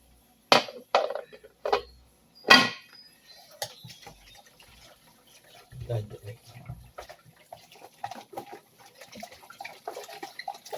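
Hot water splashes and runs from a tap in short bursts, with clattering and handling noises, then a steadier low trickle of flowing water continues near and moderately loud.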